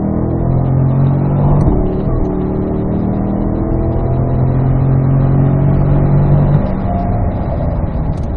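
A Corvette accelerates on a race track, its engine a steady, loud drone from inside the car that holds an even pitch for several seconds before easing slightly near the end.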